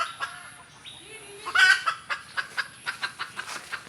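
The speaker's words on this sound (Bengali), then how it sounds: "ওই দেখেন মুরগি দেখা যাচ্ছে না, কিন্তু শব্দ শোনা যাচ্ছে।" Chickens perched up in a tree give a run of short, sharp clucks that fall into a quick, fairly even rhythm. The calls are clear and moderately close, with one louder squawking burst early on.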